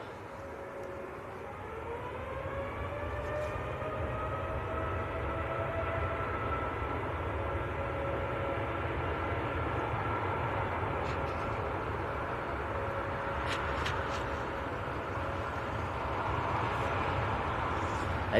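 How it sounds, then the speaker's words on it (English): A TUI Boeing Dreamliner bound for Barbados spools up for takeoff at Manchester Airport, a distant rising engine whine and low rumble heard outdoors under steady background noise. "Right, next to go, Tui Dreamliner. This one's going out to Barbados as well."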